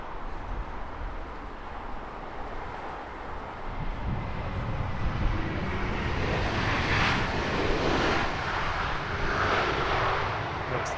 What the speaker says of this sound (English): Heavy arrival with British Airways Flight 62. It's a 777-200ER in from Nairobi